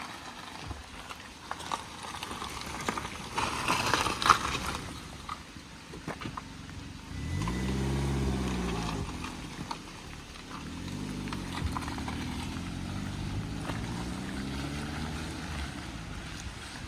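A vehicle driving through dense forest in Bastar: an engine drone rises and falls in pitch as it revs and eases off, under steady wind noise and scattered knocks and rattles from the bumpy ride.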